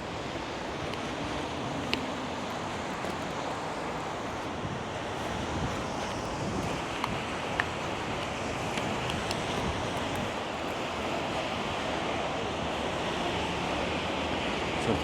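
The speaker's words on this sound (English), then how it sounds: "Big old wind tunnel here." Strong wind gusting through a city street in downtown Vancouver, a broad continuous roar buffeting the microphone, loud and steady with faint distant clicks and no talk.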